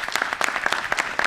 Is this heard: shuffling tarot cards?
no